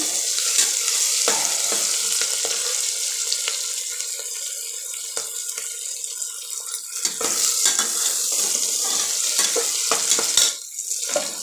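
Onions with turmeric frying in a pan, a loud close crackling sizzle with scattered pops and stirring scrapes that briefly quiets near the end, without talking.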